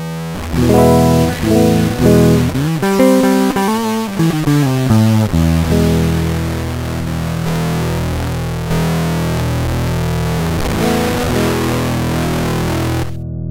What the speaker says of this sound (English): Now, I'll reduce the bit depth and you'll hear the effect of the truncation.